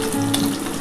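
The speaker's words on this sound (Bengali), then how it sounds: "আর 3 পিস বাকি আছে, আমি ভেজে নিচ্ছি।" Pieces of tilapia fish frying in hot oil, giving a steady close sizzle for just under a second.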